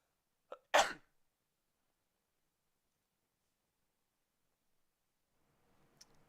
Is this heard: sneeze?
yes